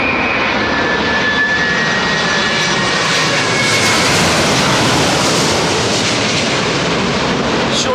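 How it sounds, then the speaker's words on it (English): Jet airliner engines on a Boeing 787 Dreamliner roar steadily and loudly, with a faint whistling tone from the scalloped engine cowls riding over the broad rush of noise. "those scalloped cowls that cause that sort of like whistly noise on the Dreamliner"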